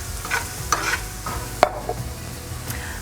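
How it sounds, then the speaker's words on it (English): Minced garlic stirred into onions frying in a pan, a soft sizzle underneath a few distinct spoon scrapes and one sharp clack against the pan, close and brief. "Add a few cloves of minced garlic. Stir this for a good minute or two until it's slightly soft."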